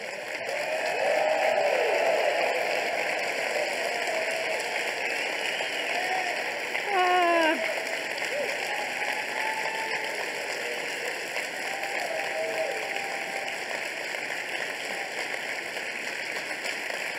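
A seated audience rises into a standing ovation, with steady, dense clapping that fills the room at an even level throughout and a brief swell partway in.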